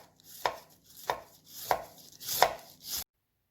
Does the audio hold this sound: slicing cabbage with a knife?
yes